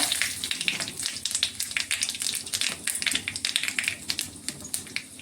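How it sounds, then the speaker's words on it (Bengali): Panch phoron spices and bay leaves hit hot oil in a pan and sizzle with dense, crackling pops that spit irregularly, steady and close by with no talking. "তেলটা গরম হয়ে গেছে, এখানে আমি এখন দিয়ে দিচ্ছি অল্প পাঁচফোড়ন, দিয়ে দিলাম দুটা"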